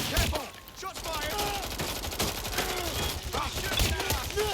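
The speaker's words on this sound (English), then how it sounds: "You've got gunfire!" Rapid bursts of gunfire in the video game Watch Dogs: Legion, overlapping shots and automatic fire crackling through a chaotic firefight, with music and game voices mixed in.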